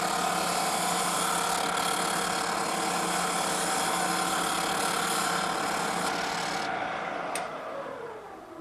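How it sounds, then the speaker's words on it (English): A woodworking drum sander grinds material from the corners of a wooden medicine cabinet part, rounded to a quarter template, a steady loud whirring drone that holds constant and tapers off near the end. "I'll just take my drum sander and remove the material"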